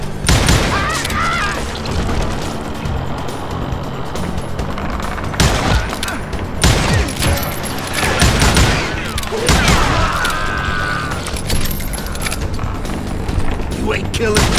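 Gunfire in the Western shooter Call of Juarez: Gunslinger, loud irregular bursts of shots and booms over a rumbling game backdrop, with sharp cracks recurring throughout and voices speaking in between.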